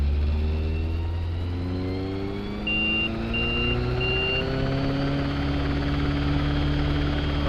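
An EMG helicopter's engine spooling up, a steady loud droning whine with rising tones, joined briefly by a short series of high beeps.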